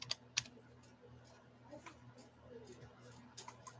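Someone types on a computer keyboard in WordPad, producing faint, irregular key clicks spread over a few seconds against a low steady hum.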